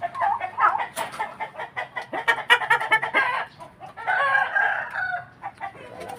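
Rhode Island Red chickens cluck and squawk close by in a busy flock, with repeated short calls overlapping and a longer drawn-out crow-like cry in the middle.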